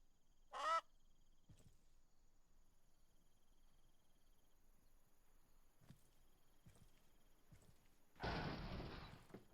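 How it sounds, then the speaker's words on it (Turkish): A chicken in a farming and livestock simulator game gives a single short, close cluck near the start, then a long quiet stretch with faint clicks before a loud burst of broadband noise at the end. "Ee, tavuk."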